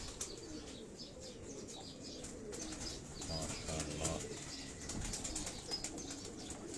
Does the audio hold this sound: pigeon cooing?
yes